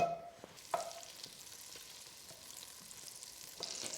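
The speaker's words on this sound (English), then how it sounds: "So I'm just going to throw my butter in." Butter melting in a warm pan sizzles softly, with a brief crackle as it drops in and a quiet, steady fizz that brightens again near the end.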